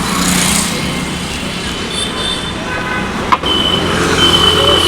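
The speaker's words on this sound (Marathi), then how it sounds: "गाड्या किती फास्ट येत आहेत." Steady, loud roar of cars speeding along a main road under repair, continuous traffic noise with a brief sharp knock midway and no talking.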